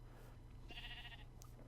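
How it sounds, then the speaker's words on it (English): A single short sheep bleat in Minecraft with the FTB Techworld 2 modpack, faint and brief over a low background hum. "And there are lots and lots of sheep about."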